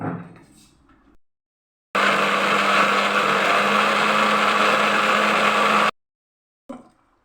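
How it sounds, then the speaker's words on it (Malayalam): An electric mixer grinder whirs loudly and steadily for about four seconds as it grinds gravy masala ingredients, framed by silence and a few faint handling knocks before and after. "ഇത് അരച്ചെടുക്കാം"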